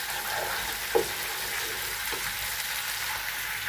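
Onion, garlic and tomato fry in a pot as the base of a fish stew, giving a steady broadband sizzle close by, with one brief utensil knock near the start and no talking.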